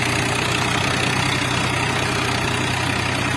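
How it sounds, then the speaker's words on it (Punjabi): A new Swaraj 963 4x4 tractor engine, about 65 hp, working a field with a soil-levelling scraper, drones in a steady, continuous near rumble with a faint knocking texture and no talk. "4x4 ਟਰੈਕਟਰ ਹੈ ਬਾਈ ਜੀ ਇਹ ਨਵਾਂ ਹੀ ਲਿਆ"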